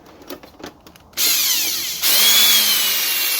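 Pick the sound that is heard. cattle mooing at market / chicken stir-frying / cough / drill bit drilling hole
drill bit drilling hole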